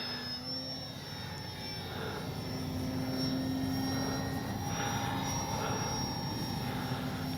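An H-King Kitfox RC airplane coming in to land on its main wheels, a steady high electric motor whine that swells slightly as it nears, fairly faint and with no talking.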